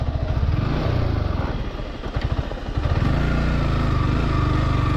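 A motorcycle engine running in first gear at a firing range area, a loud steady drone with a brief uneven, rougher patch in the middle before settling back to an even throb.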